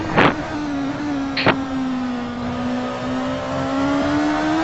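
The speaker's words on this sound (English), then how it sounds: "we have Philip Marti leaving the pits" A race car leaving the pits in a sim racing game at the 12 Hours of Sebring: a steady, droning engine note that rises slightly, with two brief bursts of noise near the start.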